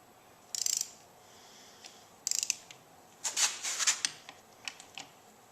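A torque wrench clicks and ratchets in several short, close bursts as bolts are tightened on a 1995 Suzuki Sidekick lower engine during a rebuild, with quiet gaps between strokes and no talking.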